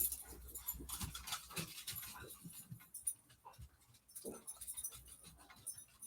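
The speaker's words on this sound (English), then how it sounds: "My dog Grumpy, he loves to bark. Just loves to bark" A dog named Grumpy pants, whimpers and gives small yips in irregular bursts at a low, fairly distant level, with no talk over it.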